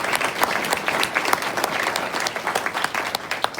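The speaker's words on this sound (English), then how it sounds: "I think that's a round of applause for the president" A crowd gives a lively round of applause for the president, close and loud, with distinct individual claps popping out of the dense clapping throughout.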